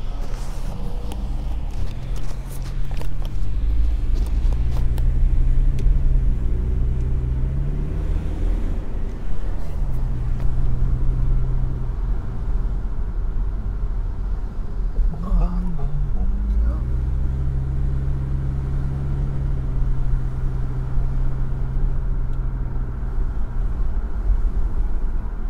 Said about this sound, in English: Even here, there's a little bit of traffic.